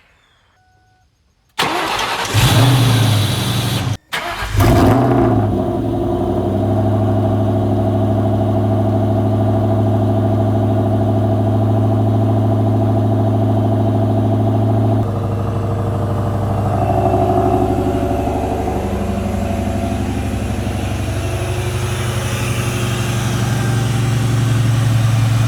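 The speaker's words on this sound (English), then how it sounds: "So I'll get you one final cold start." A 2003 Ford Mustang Cobra, fresh from a new alternator, pulley and wiring install, cranks over and fires on a cold start, then settles into a loud, steady idle with a deep rumble that shifts slightly partway through.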